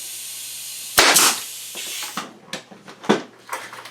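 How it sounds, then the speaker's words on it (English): An Anvil pneumatic nailer drives a 3/4 inch brad into a hemlock block: a loud, sharp pneumatic snap with a burst of air hiss, followed by several smaller clacks and handling knocks. "So there's my 3/4 inch brad that I just shot."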